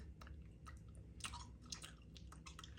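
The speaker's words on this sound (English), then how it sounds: "If you see somebody just chewing gum like this" Close, wet chewing of gum by one person, soft repeated mouth clicks and smacks in an irregular rhythm over a steady low background hum, with no talking.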